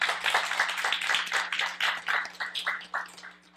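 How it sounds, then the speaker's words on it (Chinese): A small group of students gathered for a morning session at a Tainan branch meeting claps for themselves, with quick, fairly rhythmic claps that stay close and lively for a few seconds before thinning out near the end. "来给自己一个掌声哈"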